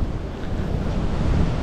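Sea waves wash ashore at a Spanish beach town on the coast, with strong wind buffeting throughout, making a dense, continuous low roar.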